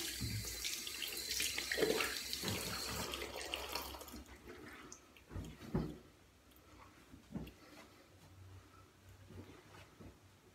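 Water runs steadily from a tap for the first few seconds, then gives way to scattered splashes, drips and handling knocks at low level.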